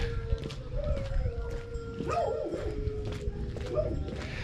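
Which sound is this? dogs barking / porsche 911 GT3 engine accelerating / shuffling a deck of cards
dogs barking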